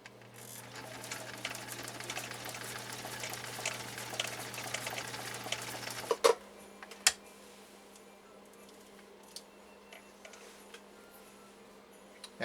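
Husqvarna Viking 19E sewing machine running a standard zigzag stitch, a steady fast mechanical ticking and whirring close by for about six seconds, then stopping, with a few isolated clicks and quieter handling noises afterward.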